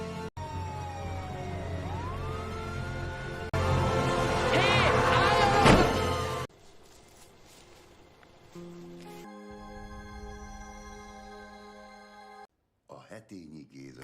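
An ambulance siren wails in a film scene as a car chases the vehicle, with rising and falling tones among loud music and effects before the scene cuts to quieter sustained tones.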